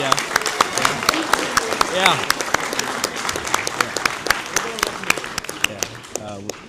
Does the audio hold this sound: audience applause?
yes